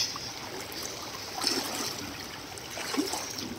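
River water swirling and trickling around legs wading across a knee-deep river, a soft steady gurgle with a couple of brief splashy surges, fairly quiet and without talking.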